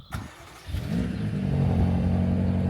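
A car starts up and pulls away, its medium engine rising from a low idle into a steady, building drone that stays close and fairly loud, with no voices.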